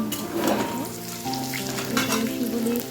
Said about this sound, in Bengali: একটু আলু ফ্রাই করে নিচ্ছি আলু ফ্রাই করছি আমি সানফ্লাওয়ার অয়েল আর কাঁচা মরিচ আর হলো সৈন্ধব লবণ দিয়ে